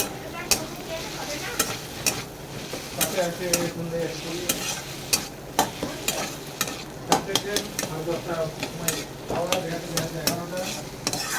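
Gime saag greens with turmeric are stirred in a hot pan, sharp scraping clicks and taps of the spatula repeating irregularly over a continuous oily sizzle, close and clear.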